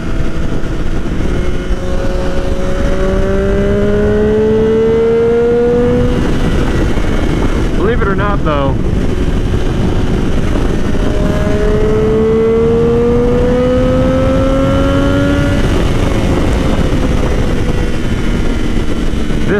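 A Triumph Daytona 675R motorcycle engine revs with rising and falling harmonic sweeps, loud and close, while someone talks over it.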